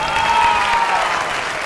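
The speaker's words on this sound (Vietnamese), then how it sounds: "Các bạn vỗ tay cổ vũ." Dense, continuous applause from a crowd cheering on a noodle-eating contest, loud and sustained throughout with no pauses.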